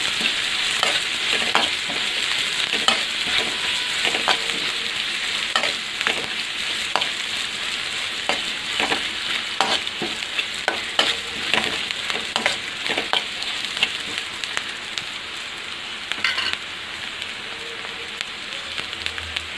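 Onions sautéing with salt for a cauliflower gravy give off a steady, close frying sizzle, broken by frequent sharp ladle clicks and scrapes against the pan for the whole stretch.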